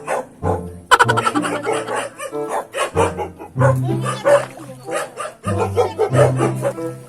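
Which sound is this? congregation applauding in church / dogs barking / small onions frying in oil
dogs barking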